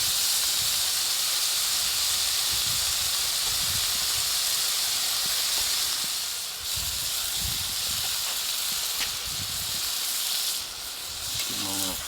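Burgers sizzle on a grill over a Solo Stove Ranger, a steady broad hiss and crackle holding for several seconds, close and constant with small dips in level.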